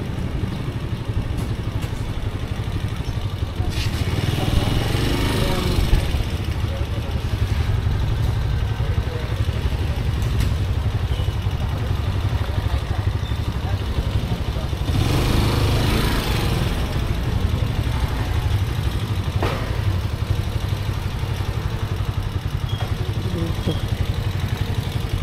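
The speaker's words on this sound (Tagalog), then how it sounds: "Dami mga motor dito." Many motorcycle engines idle and rev at a Grab warehouse in Marikina, a steady low rumble that fills the whole stretch, with occasional clattering and louder surges from nearby bikes.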